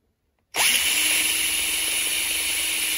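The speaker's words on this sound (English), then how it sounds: "So what you're going to want to do is drill these down" Brass plugs on a non-serviceable carburetor being drilled out with a power drill, a sudden start after brief silence followed by a steady, loud, high-pitched whine and grinding that continues without pause.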